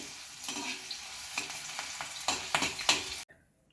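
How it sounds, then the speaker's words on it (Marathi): Green chilies frying crisp in oil for mint chivda, a close hissing sizzle broken by a few sharper stirring scrapes that build toward the end before cutting off abruptly into silence. "दोन मिनिट आपल्याला ही मिरची छान कुरकुरीत अशी तळून घ्यायची आहे."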